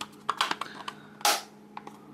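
Plastic parts of a DeAgostini R2D2 model dome clicking and snapping into place, a handful of sharp close clicks in an irregular rhythm with one louder rustling snap.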